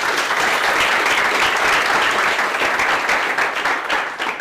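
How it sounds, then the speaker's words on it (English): Steady, loud applause from a large audience at a breakfast talk session continues without a break, a dense wash of many hands clapping together throughout. "A round of applause for her."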